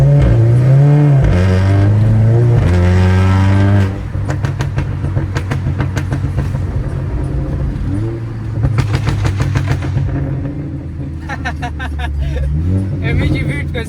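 A car engine revs and accelerates while driving, its loud droning pitch climbing and shifting through gears with crackling bursts, while people talk over it.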